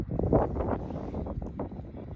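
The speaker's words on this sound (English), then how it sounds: "Here we have the windy weather." Gusty wind buffets the microphone outdoors in a saffron field in Iran, a rough, uneven low rumble with no other sounds standing out.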